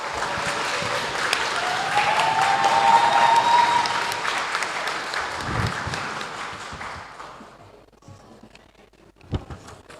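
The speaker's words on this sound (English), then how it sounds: "let's welcome Loy Muniroat to the stage with a big round of applause" A big round of applause from a public speaking contest audience welcoming a finalist to the stage, loud and full at first, then tapering off to a few scattered claps and faint room noise.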